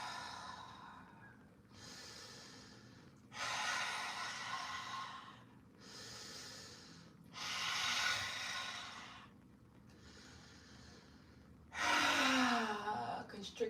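Deep yogic breaths drawn through a constricted throat, a steady series of long, airy inhales and exhales at a slow rhythm, close and fairly soft, with a final sighing exhale through an open mouth.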